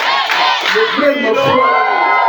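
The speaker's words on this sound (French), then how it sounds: "Applaudissez. Oui, applaudissez." Crowd at a gathering cheering and shouting loudly and continuously, a dense wash of voices and whoops with little sign of distinct clapping.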